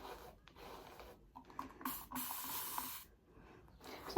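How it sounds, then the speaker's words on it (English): Several short bursts of hairspray hiss, each lasting about a second, close to the microphone in an otherwise quiet room. "Sometimes I spray the brush and sometimes I spray my hair."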